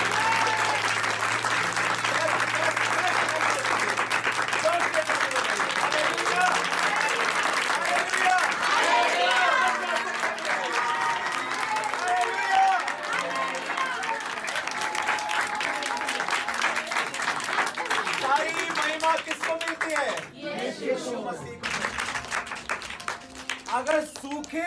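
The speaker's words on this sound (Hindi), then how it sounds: "जोर से ताली बजाकर परमेश्वर को महिमा दीजिए" A church congregation at a lay leaders training seminar in Delhi claps loudly and continuously in dense, sustained applause that fills the room for over twenty seconds, with voices mixed in and a brief dip near the end.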